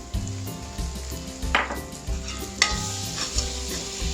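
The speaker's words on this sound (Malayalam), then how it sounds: "ഇതെല്ലാം ഇട്ട് നല്ലോണം പൊടിയുടെ പച്ചമണം മാറുന്നിടം വരെ ഇളക്കുക" Spice powders of fennel, coriander, garam masala and chilli stirred into fried onions for a Kerala beef curry, a steady sizzle under scraping spoon strokes, close and loud with no voices.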